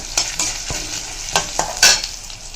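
Whole spices roast in hot oil in a pan for a brinjal kootu, a loud close sizzle punctuated by repeated spatula stirring scrapes, with no talking.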